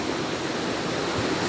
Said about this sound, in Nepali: त्यहाँ रिसोर्टको मुनिबाट पानी बगिरहेको छ